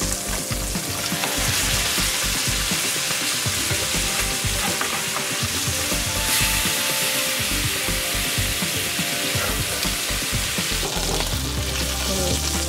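Yellowtail snapper sizzles steadily in a hot pan after being flipped, a dense, loud, continuous frying crackle with no talking.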